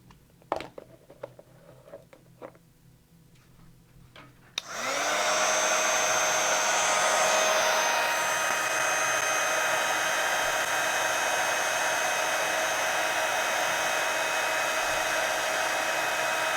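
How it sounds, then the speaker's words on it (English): A heat tool melting embossing powder switches on after a few quiet seconds with small taps, then blows as a loud, steady close-up whirring roar that continues to the end. "And then I'm going to melt that embossing powder."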